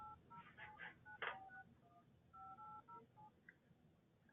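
Telephone keypad DTMF tones sound as credit card digits are entered during a phone payment call, a quick series of short clear beeps over faint background hiss, with no talking.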